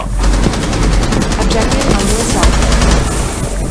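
Loud, rapid automatic gunfire in Rainbow Six Siege's Nest Destruction mode rattles in fast, continuous bursts close up, while players shout excitedly over it.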